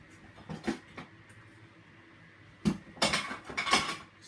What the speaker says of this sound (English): Excuse the noise, just me putting away some extra tubes.